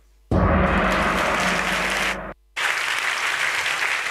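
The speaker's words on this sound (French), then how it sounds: "On peut l'applaudir très fort" An audience at the MT180 2024 national final at ULB gives loud, sustained applause, a dense wall of clapping that cuts out abruptly for a moment before resuming at full strength.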